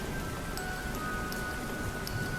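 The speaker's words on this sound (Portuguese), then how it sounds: "Está chovendo lá fora." Steady rain falls outside at night as an even, continuous hiss with a few faint drips, with no voices.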